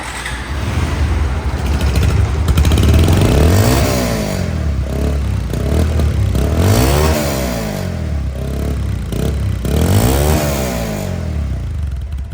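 A second-hand Bajaj Pulsar DD ABS motorcycle engine idles loudly up close and is revved three times, each rev climbing and falling back to a rough idle.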